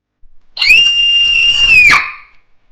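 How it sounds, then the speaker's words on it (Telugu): A girl jolts awake screaming in terror: one loud, piercing, sustained shriek that starts abruptly, holds for over a second, then breaks off sharply into silence. "ఒకసారిగా ఉలికిపడి భయంకరంగా అరుస్తూ నిద్రలేస్తుంది"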